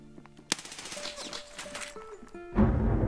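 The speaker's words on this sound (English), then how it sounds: "Did I not just shoot 3 bullets into his head?" Gunfire in the shooter game Escape From Tarkov: a sharp, loud shot near the start, then quieter game sounds with a tonal hum, and a heavy burst of rapid automatic fire filling the final half second.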